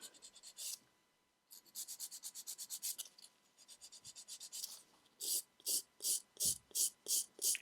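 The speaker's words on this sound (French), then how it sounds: "je commence à donner une forme. Vous voyez qu'on n'a pas beaucoup à limer finalement." A nail file rasps against a French Popit fake nail as it is shaped, giving steady rhythmic back-and-forth strokes in short bursts with brief pauses, close and fairly quiet.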